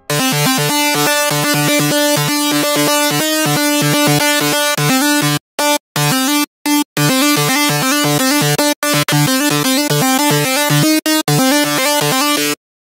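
A bright, buzzy synth lead built in Harmor in FL Studio plays a steady rhythmic run of sustained notes, loud and dense, cut by a few short silent gaps near the end.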